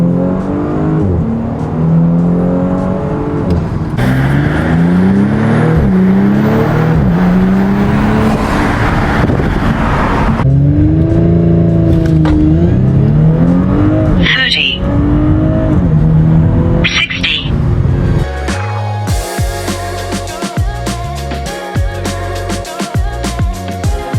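An Audi S4 pulls away hard from first gear, its engine revving up in repeated rising sweeps through the gears, loud and close. Intake and turbo whooshes cut in at the shifts, and a person talks near the end.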